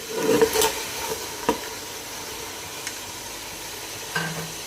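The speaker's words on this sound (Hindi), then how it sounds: "ये हम मुर्गी को भून रहे हैं मसाले में" Chicken pieces being stirred and fried in spiced oil with browned onions, ginger-garlic paste and whole spices for a white chicken yakhni pulao, giving a soft steady sizzle with a few sharp utensil scrapes and clinks near the start.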